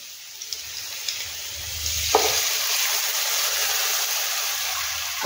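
Garlic frying and being stirred in a pan, a steady sizzle building and holding at moderate level with a few scraping spoon clicks early on, no voices.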